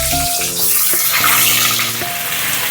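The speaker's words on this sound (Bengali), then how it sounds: "পটলগুলো ভাজার সময়তেও আমি অল্প একটু লবণ দিয়ে পটলগুলো ভেজে নেব।" Pointed gourds (potol) fry in hot oil with a little salt, giving a steady close sizzle and crackle throughout, with sustained musical tones playing underneath.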